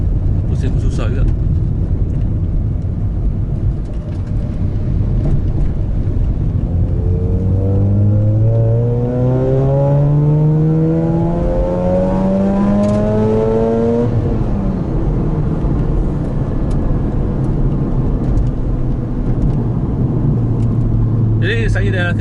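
A Mazda RX-8 rotary engine on a track day revs steadily upward in rising sweeps, then drops back to a lower drone, loud and continuous for the whole stretch.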